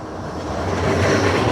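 A Blackpool promenade tram passing close by in stormy weather, a loud continuous smooth rumble and rolling hum that swells slightly, with no talk.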